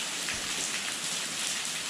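Pouring rain on a mountain trail while climbing Mt. Misen in Japan, a steady dense hiss of heavy downpour filling the whole clip with no voices.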